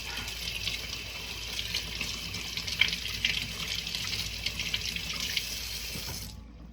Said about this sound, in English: I'm going to rinse it with warm water